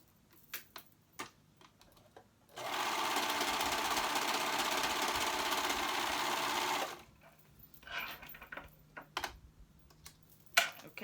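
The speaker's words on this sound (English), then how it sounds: "I'm gonna go ahead and sew that shoulder seam right there." A sewing machine stitches a shoulder seam on a ruched tee in one steady burst of about four seconds, loud and close, framed by quieter clicks and handling noises before and after.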